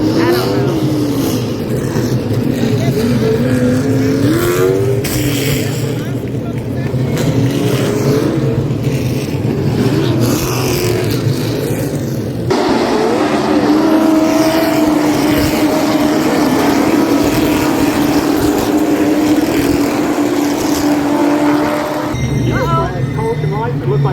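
Street stock cars race around a track, a loud continuous roar of engines with rising and falling revs as cars pass, close and dense, while people talk over it.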